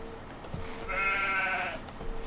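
A single sheep bleats in Farming Simulator 2015, one clear, wavering, moderately close bleat lasting about a second over a quiet farm-game background hum, with no one talking.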